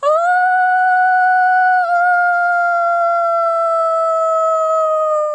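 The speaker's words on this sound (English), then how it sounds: "First, a howl from close by." A person standing close to wolf enclosures lets out a single loud, sustained howl, a clean, smooth tone holding steady for several seconds with a slight dip midway and no other sounds around it.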